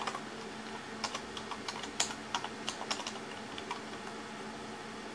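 Login credentials typed on a computer keyboard while setting up a Raspberry Pi, a quiet run of irregular close key clicks with brief pauses between bursts and no talking.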